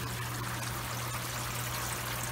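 Water trickling steadily through a seedling tray watering system in a lettuce greenhouse, a continuous soft flow with a low hum beneath and no voices.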